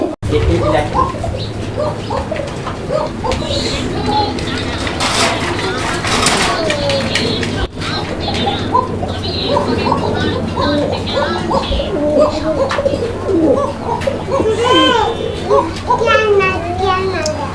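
A fancy pigeon coos from its cage in repeated soft, rolling calls under steady talk, with children's voices and other birds chirping in the room.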